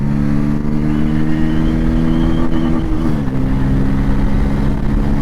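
A Bajaj Pulsar N160 motorcycle accelerates hard through its gears, its engine a loud, steady droning hum whose pitch climbs and then dips briefly at a gear change around the middle, with constant wind roar throughout.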